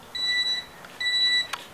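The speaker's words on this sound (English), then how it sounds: "It'll stop beeping in a minute. It's just my automatic garage door closer" An automatic garage door closer beeps twice, each a steady electronic tone lasting about half a second with a short gap between, followed by a brief click; no one talks over it.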